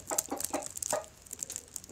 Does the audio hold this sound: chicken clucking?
yes